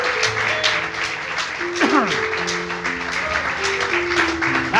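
A church congregation applauds in a steady wash of clapping, mixed with sustained musical tones and voices throughout.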